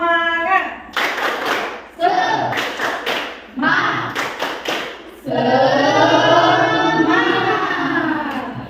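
A schoolroom of children claps a rhythmic spirit clap, several short bursts of patterned clapping with chanted voices between them, ending in a longer sung call.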